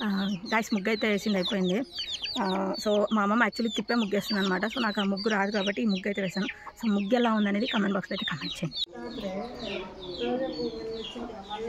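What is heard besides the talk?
rooster clucking and crowing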